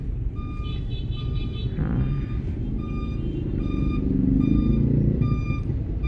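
Street traffic rumbles steadily in a Philippine barangay while a truck's reversing alarm beeps in a regular, evenly spaced pattern. Engine noise swells toward the end, and no voices are heard.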